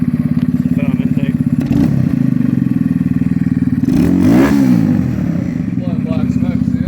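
A 2017 Kawasaki Z125 Pro motorcycle with a foam intake, its small engine idling loudly close up with a steady throbbing exhaust, then revving up and falling back around the middle, with speech heard briefly.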